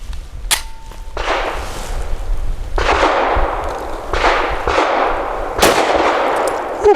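FN 509 Midsize pistol firing heavy 142 grain ammunition outdoors, five loud sharp reports at irregular spacing, each trailing off in a long ringing echo.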